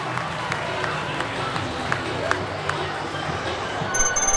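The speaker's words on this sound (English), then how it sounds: "The crowd have gone crazy here." A speedway crowd cheers and claps loudly after a heat win in a Poole Pirates versus Oxford cup semi-final, a continuous roar with scattered sharp claps while a commentator talks over it.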